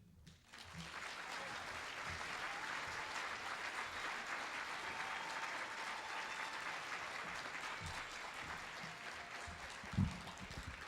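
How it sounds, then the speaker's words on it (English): A banquet crowd at a chamber of commerce centennial celebration applauds award honorees with a steady, even wash of clapping that sounds faint and distant, followed by a single soft thump near the end. "So a big round of applause for our honorees."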